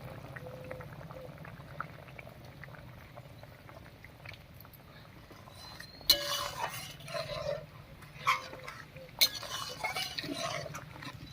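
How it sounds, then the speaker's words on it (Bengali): A pot of boroli fish curry bubbles steadily while a spoon scrapes and clinks against the sides, stirring fried spices into the simmering curry. "ভাজা মশলা দিয়ে নাড়িয়ে নিয়েছি"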